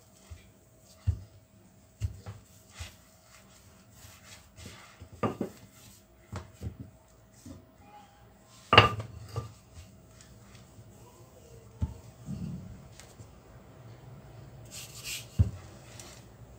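Quiche dough being rolled out with a rolling pin on a kitchen surface: scattered faint knocks and soft rubbing scrapes, with a sharper clack near the middle, quiet and close with no talk.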